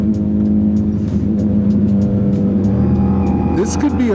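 A motorbike engine runs roughly and unevenly up close, its low droning note wavering and sputtering, with a rising rev near the end and people talking over it.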